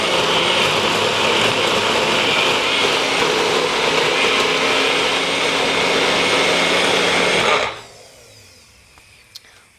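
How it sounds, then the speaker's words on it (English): A NutriBullet blender whirs loud and steady for nearly eight seconds, a dense motor roar that cuts off abruptly, leaving a quiet room with a faint click. "we're going to put the lid on and we're going to blend in the NutriBullet"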